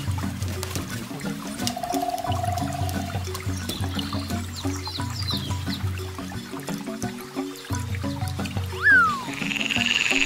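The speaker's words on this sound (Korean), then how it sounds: "Frog." Frogs croak in repeated low, rhythmic calls, layered and continuous near the listener, with trickling water and a brief high bird chirp late in the clip.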